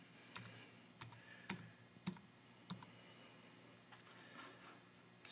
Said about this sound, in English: So I'm going to go ahead and type in my password.